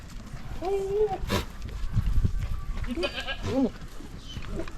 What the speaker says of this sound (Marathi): इकडं हे सगळे बोकड आहेत